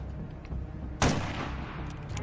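A single sharp gunshot fired at a rope in the game Assassin's Creed Chronicles Russia, a loud close crack with a decaying tail over a low ambient game rumble.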